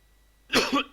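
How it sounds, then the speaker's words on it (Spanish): Single harsh cough from an adult, loud and close after a moment of near silence, followed by the start of a second one. "mientras se me saltan las lágrimas por la tos"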